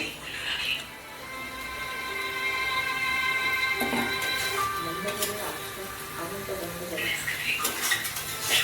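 A pot and utensils clatter as fish curry is moved into a bowl, with metallic scrapes, clinks and knocks sounding close and irregular throughout, a voice briefly talking alongside.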